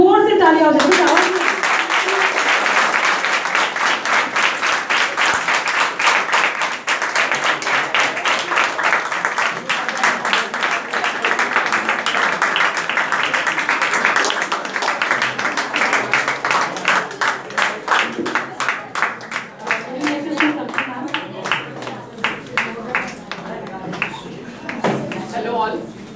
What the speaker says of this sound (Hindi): To felicitate her, एक जोर से तालियां हो जाए।